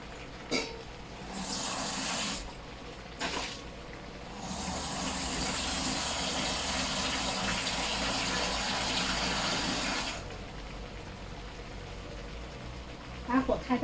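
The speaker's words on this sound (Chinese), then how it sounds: "这个时候我们就要加水了。" Water poured into a cooking pot of braised bacon cubes, a steady gushing pour lasting several seconds between short bursts, with clatter around it and a voice speaking over parts of it.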